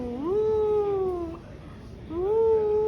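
A kitten gives two clear meows close by, the first long and drawn out, the second shorter after a brief pause, with faint room background between.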